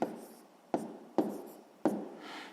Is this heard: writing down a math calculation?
yes